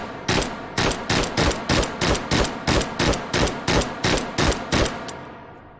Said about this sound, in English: We'll do a 3-shot burst from the hip as well.